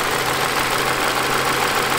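2021 Toyota Corolla hatchback with direct injection idling with the hood open, a steady close engine rumble with a constant low hum and fine ticking texture, no voices.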